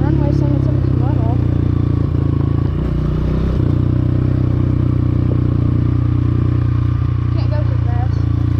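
A motorcycle ridden by a learner working the clutch, with a steady loud engine drone and some clattering, continuous and close throughout, while a person talks over it.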